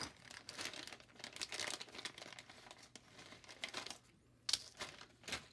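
A bag of zip ties is handled and rummaged, giving continuous close crinkling and rustling of plastic with scattered clicks and one sharper snap near the end, without speech.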